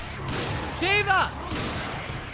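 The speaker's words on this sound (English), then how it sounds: "Stop shooting me! Shoot at the enemy!" A burst of gunfire from the Resident Evil 5 video game crackles at close range, heavily overlapped by a loud shouted voice near the middle.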